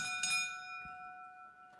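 A boxing ring bell sounds once before a WBC Super Lightweight Championship bout, a single bright ring with a long sustained decay that lingers steadily and fairly loud across the arena.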